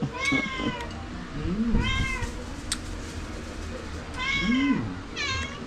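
A cat meows repeatedly and clearly, several drawn-out cries spaced a second or two apart, close by over faint background noise.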